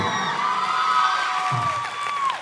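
An audience at a film promotion event gives sustained, loud cheering, with whoops and shouts carrying across the crowd and a brief clap-like burst partway through.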